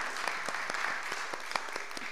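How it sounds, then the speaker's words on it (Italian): An audience gives steady applause after a talk about Sarajevo, a dense continuous clapping with individual claps audible throughout. "Facciamo un applauso a Nermin."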